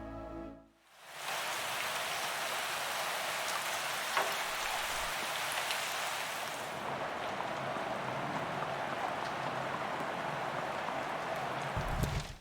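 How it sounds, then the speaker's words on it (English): Steady, dense video-game rain ambience in a roguelike, hissing evenly with a faint low rumble underneath; the sound swells in after a brief quiet start and continues unbroken. "I would also like you to take a few moments to enjoy the rainy ambience."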